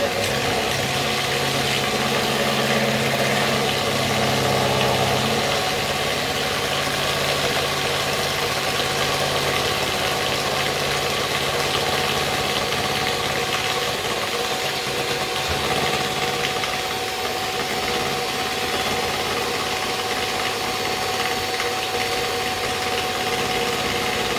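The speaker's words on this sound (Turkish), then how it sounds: "Şimdi bunu güzelce mikserde çalıştırıyorum." An electric mixer runs steadily, whipping cake cream, with a constant motor whir and rattle that holds at an even, fairly loud level throughout.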